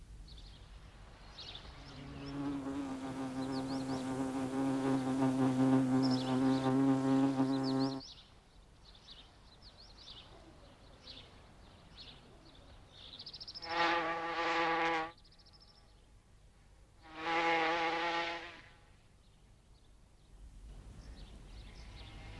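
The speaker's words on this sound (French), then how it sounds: "le premier réflexe de toutes les guêpes fondatrices est de chercher un endroit propice où installer leur nid" Founding wasps fly about while searching for a nest site, their close buzzing wings rising in one long sustained drone and then two shorter separate passes, with quiet pauses in between.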